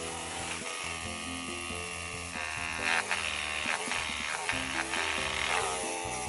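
A cat-shaped Daiso vibrating massager runs with a steady, close electric buzz that grows slightly louder partway through, the sound unbroken and with no talk.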